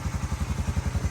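A Honda TRX Fourtrax 350 ATV engine running, with a steady low, chugging pulse that repeats evenly, heard close.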